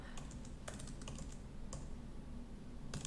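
Keys on a computer keyboard clatter in a short burst as a name is entered, with a few quick clusters of clicks over a low steady hum, faint and close.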